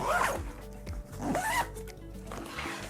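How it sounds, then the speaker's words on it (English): A Peak Design-compatible hiking backpack being zipped shut, its zipper rasping close in three quick rising pulls with brief pauses between strokes, fairly loud and near. "And I can zip this shut."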